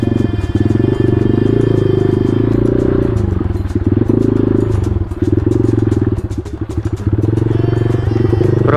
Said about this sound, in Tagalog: Basta ganitong motor ang gamit natin.